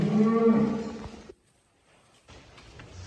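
Cattle moo inside a barn on a cattle farm, a loud, deep, drawn-out call close by that stops abruptly, followed by a brief silence and then quiet barn ambience.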